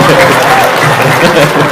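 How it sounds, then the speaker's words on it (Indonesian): Loud audience clapping at a holiday gathering, a short burst of dense applause mixed with some voices in the room. "Tepuk tangan."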